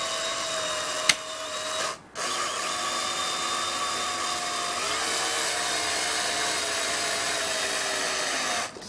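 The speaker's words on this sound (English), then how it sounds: "I'm just gonna tighten it with the drill" A power drill runs continuously while tightening the rear shock bolt on a Kawasaki KLX140L dirt bike, a loud close whine with a sharp click and a brief dip near the start, then steady until it stops at the end.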